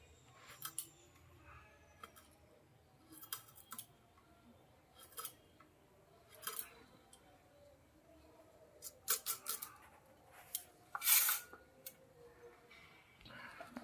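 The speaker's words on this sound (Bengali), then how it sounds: "একইভাবে সব ফুলগুলো আমি কেটে নেব।" A knife slices cauliflower florets in half on a board, giving sparse, separate crisp cuts and taps at irregular intervals, quiet and close, with a faint background hum.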